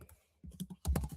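Brief burst of computer keyboard typing, a few quick clicks with a short pause before a denser cluster of keystrokes, close and fairly quiet.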